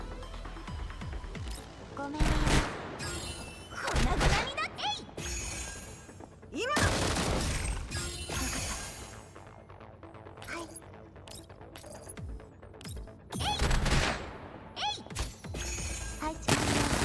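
Gunfire rattles in Girls' Frontline 2: Exilium, loud bursts of rapid shots and heavy booms arriving in repeated waves across the whole stretch, with brief quieter gaps between volleys.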